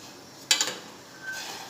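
A spoon stirs masala tea with crushed ginger and cardamom in a pot, giving a few quick clinks and scrapes against the metal. A softer scraping follows.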